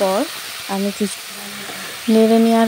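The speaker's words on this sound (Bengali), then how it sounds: "খুব ভালো করে আমি প্রত্যেকটা খুব ভালো করে নেড়ে মিশিয়ে নিচ্ছি" A pan of drumstick flowers and other ingredients hisses softly while being stirred and mixed, the sizzle sitting beneath a person speaking through most of the moment.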